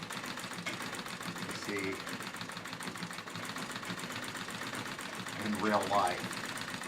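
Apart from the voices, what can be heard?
treadle sewing machine quilting on denim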